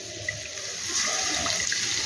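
Water poured from a rinsed bowl while cooking a mustard hilsa dish, heard as a steady, continuous close rush of running liquid throughout, with no talking.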